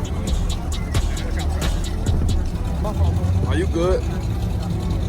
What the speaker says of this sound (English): Another Camaro pulling up.